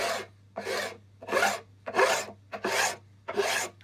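Acoustic guitar fingerboard being sanded level to remove burrs, seven rhythmic rasping strokes close up, each about half a second long and separated by brief pauses, with no talking.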